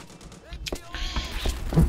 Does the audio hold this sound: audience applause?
no